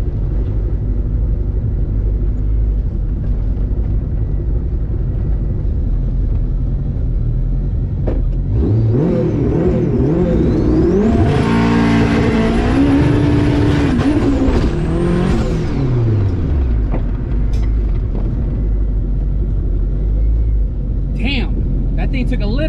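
A turbocharged Honda K20 engine in a wagon on a dyno idles, then revs hard with a rising turbo whine and a long high-rpm pull before dropping back; a voice talks beneath it.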